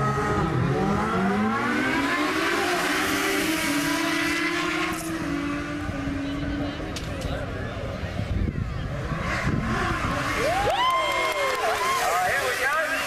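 Drag-racing motorcycles, a 900 Kawasaki and a 750 Suzuki, rev and wind up with rising, whining engine sweeps on a beach strip, their pitch climbing and falling over crowd noise and an announcer's voice.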